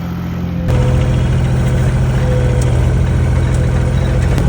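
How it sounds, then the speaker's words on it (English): Case 2090 farm tractor engine, recently repaired, running at a steady idle. A loud, close, low rumble that keeps going, with a faint tonal whine above it, after a brief quieter start. "his case tractor finally got it working again"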